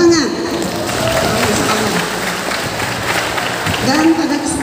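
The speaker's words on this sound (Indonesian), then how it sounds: "Tepuk tangan." A large crowd at a public gathering breaks into applause, a continuous wash of clapping with a voice speaking over it and tonal sweeps at the start and end.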